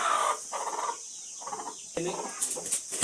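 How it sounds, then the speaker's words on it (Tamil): A chicken clucks in short bursts close by, with soft fluttery sounds and a few higher squawks near the end. "இதுதான் நம்ம சின்ன கோழி இப்போ ஓடுது."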